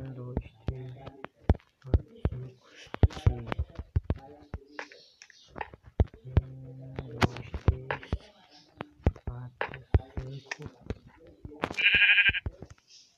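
Sheep bleating in Minecraft beta, heard as short game bleats mixed with frequent clicking and tapping while a person talks over most of the gameplay.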